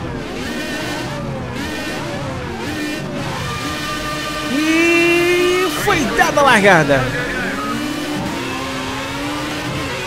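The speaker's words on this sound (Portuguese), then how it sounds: "Aquecer os motores." A Formula A open-wheel race car engine in Project CARS 2 on a wet track, revving hard in loud rising and falling sweeps with sharp upshifts, up close, while someone talks over it.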